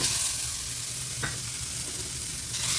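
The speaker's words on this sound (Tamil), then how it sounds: "அடுத்து தேங்காயும் இதிலே வந்து நம்ம கொட்டி வறுத்துக்கலாம்." Grated coconut roasting in a pan on low heat for a coconut cake, giving a steady dry sizzle with occasional scraping stirs, close and continuous with no talking.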